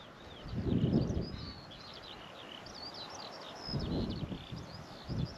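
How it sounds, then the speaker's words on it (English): Quick, high chirping bird song repeats in short phrases at a distance, over gusts of wind and rustling in an otherwise quiet outdoor setting on the Northumberland coast. "We've got a bird singing to us."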